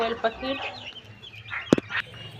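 Pet chickens kept alongside quails cluck close by in a series of short, quick clucks, with a sharp peck or knock near the end and no clear talk.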